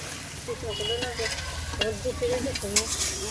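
Potatoes go into a pot of Bengali mutton kosha curry, frying with a steady sizzle while a spoon stirs and scrapes close by. A voice murmurs faintly underneath.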